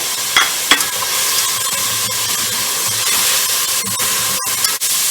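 Cabbage and capsicum being stir-fried in a hot pan, a loud continuous sizzle with a few sharp scraping clicks from stirring scattered throughout, no voices.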